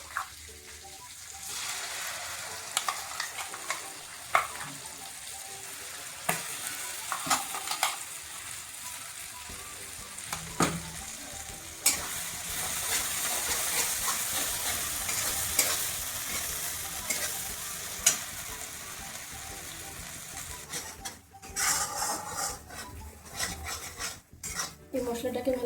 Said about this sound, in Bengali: এই মশলাটাকে ভালো করে কষাবো।